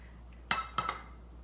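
Tomatoes from a can go into a pot of keto chili, giving two or three quick metallic clinks and a clattering knock, close and fairly quiet, with nothing else in between.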